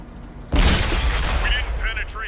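A single heavy tank gun blast booms against a Super Pershing's armor in World of Tanks, followed by a long rumbling decay and faint metallic ringing.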